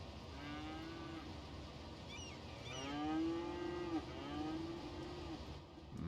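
Cattle moo in the city-building game Cities: Skylines, a few drawn-out bellows around the middle, the loudest and longest near the three-second mark, over a steady low game ambience with no talking.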